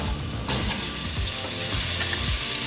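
Onions and carrots drop into a hot pot of spiced oil for a Moroccan seven-spice pork dish, giving a loud, dense, continuous sizzle close by with faint stirring scrapes.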